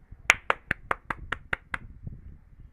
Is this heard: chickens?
no